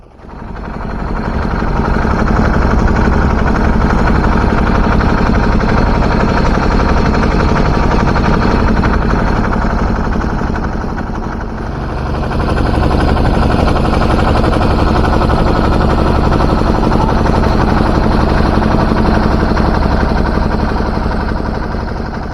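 A boat engine drones during a river ride toward Namo Ghat in Varanasi, a loud, steady, rumbling chug that runs without pause, briefly dipping once before resuming at full strength.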